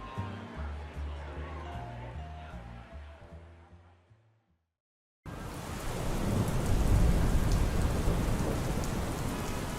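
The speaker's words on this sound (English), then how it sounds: "Perpetual rain endlessly casts itself down at the streets of the city" Steady heavy rain pours down on city streets as a dense, continuous hiss that starts abruptly after a short silence and holds loud and even, preceded by a musical passage that fades out.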